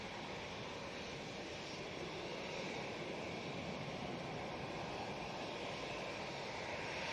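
A jet airliner leaving Manchester Airport bound for Doha gives a steady, fairly faint broadband engine roar that holds without a break through the whole stretch.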